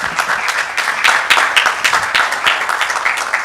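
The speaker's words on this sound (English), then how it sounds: "a huge round of applause for everyone who is present in this hall." Audience in a full conference hall applauding at an awards event, a lively sustained wash of many clapping hands with sharp accents throughout, loud and close.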